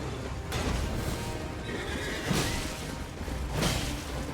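A horse whinnies in the video game Elden Ring Nightreign, followed by swooshing and thumping game effects, with bursts of activity recurring every second or so.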